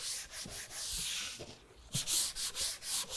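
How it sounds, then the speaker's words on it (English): A cloth soaked in rubbing alcohol wipes down the bed of a 2019 Ram 1500 pickup, giving short, close rubbing strokes in an uneven back-and-forth rhythm. "we want to use our rubbing alcohol and wipe down the area just to make sure it's nice and clean."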